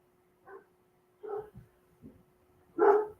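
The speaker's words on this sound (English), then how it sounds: "there goes my dogs, if you can hear them" Dogs in a home barking in short, scattered bursts, four or so separate barks and yips of varying loudness against a quiet room.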